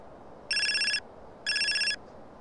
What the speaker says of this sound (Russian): О, кто-то нам там-то звонит.